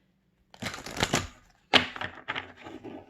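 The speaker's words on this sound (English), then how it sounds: "I'll do one more quick shuffle" Two quick bursts of tarot cards riffling and slapping together, crisp and close, separated by a short pause.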